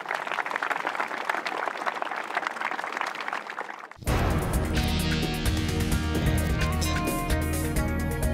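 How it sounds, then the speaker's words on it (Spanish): A live audience applauds at a gathering in Bolivia: dense, steady clapping for about four seconds, then it cuts abruptly to loud music. "Un aplauso para ustedes y muchas gracias por recibirnos."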